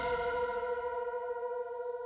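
A sustained nu-metal filler guitar lead note rings out alone, with wavering vibrato and a wash of reverb, steady and fairly loud for about two seconds.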